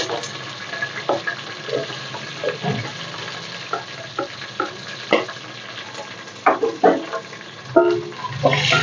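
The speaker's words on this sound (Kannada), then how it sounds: "ಈರುಳ್ಳಿ ಚೆನ್ನಾಗಿ ಫ್ರೈ ಆಗಲಿ" Onions and green chillies fry in a pan for a capsicum and brinjal dish, with a steady close sizzle broken by frequent scraping and clacking stirs of a spoon.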